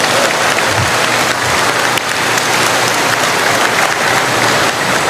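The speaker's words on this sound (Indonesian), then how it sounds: "Bagaimana kalau saya ajak dulu kita tepuk tangan yang panjang?" A large audience claps continuously through a long, loud round of applause at an academic oration, a dense unbroken wash of hands with no pause.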